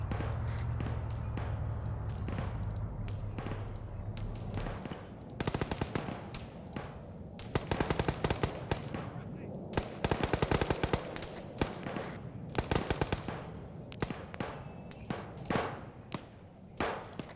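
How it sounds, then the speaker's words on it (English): Bursts of automatic gunfire and scattered single shots ring out during a military video game squad training session, loud and close with irregular rhythm, opening on a low steady rumble before the shooting starts. "Find out who's shooting."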